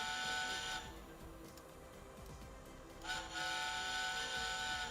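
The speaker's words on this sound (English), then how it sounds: "You can hear the difference in the quality of the whistle straight away" An A4 model steam locomotive whistle from a DCC sound project sounds a sustained tonal blast, falls quiet briefly, then blows again over a soft background hiss.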